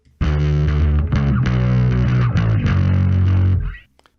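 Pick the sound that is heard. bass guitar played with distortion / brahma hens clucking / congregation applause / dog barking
bass guitar played with distortion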